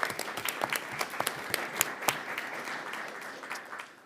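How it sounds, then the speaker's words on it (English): A school board meeting audience claps for a first-year teacher, moderately loud with distinct individual claps standing out over a steady patter, tapering off toward the end. "So let's give her a round of applause."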